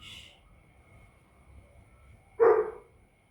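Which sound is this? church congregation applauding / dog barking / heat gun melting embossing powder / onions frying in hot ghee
dog barking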